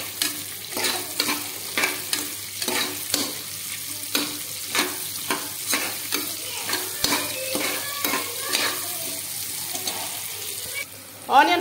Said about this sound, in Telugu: నెక్స్ట్ దీనిలో ఆనియన్స్, పచ్చిమిర్చి, జీలకర్ర కూడా వేసుకోవాలి. వేసుకొని వీటిని గోల్డెన్ కలర్ వచ్చే వరకు బాగా ఫ్రై చేసుకోవాలి.